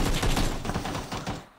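Sustained enemy gunfire in PUBG on Xbox, a rapid burst of close shots rattling continuously for a second and a half before tapering off, with no talking over it.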